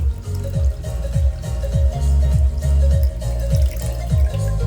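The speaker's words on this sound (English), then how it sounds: "What happens when water goes from glass to glass" Water poured from one glass into another, a loud, close, continuous splashing pour with a rapid series of glugging pulses.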